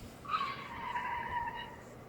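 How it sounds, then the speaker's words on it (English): A car skid sound effect dropped into a stop motion edit, a single drawn-out tire squeal lasting over a second, loud and fairly close, fading out at the end against a faint background hiss. "Let's add that car skid back."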